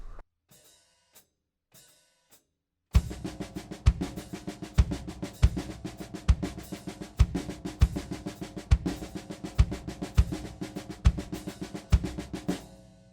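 A drum kit plays a linear groove of hi-hat strokes interleaved with punchy bass drum accents, a steady repeating pattern after a few sparse hits, with no one talking.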